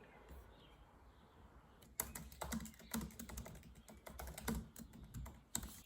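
Quiet, close typing on a computer keyboard during a timed writing sprint, starting after a near-silent pause and continuing in uneven bursts of soft key clicks.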